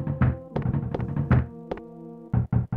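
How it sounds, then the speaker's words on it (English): Knocking on a door in the EarthBound video game, a quick series of loud, sharp thuds in uneven bursts with brief pauses, heard alone without talk. "Someone's knocking at the door."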